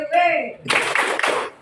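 A school class claps their hands together in a rhythm game, a burst of many overlapping hand claps with a few distinct accents, following a short spoken call.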